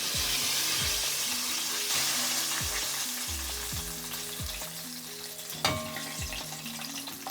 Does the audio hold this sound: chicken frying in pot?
yes